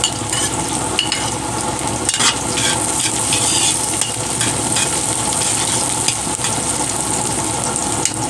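Garlic and spices stir-fried for beef pares, a steady close sizzle of frying with the scrape of a spoon stirring through the pan, continuous for the whole stretch with no talk.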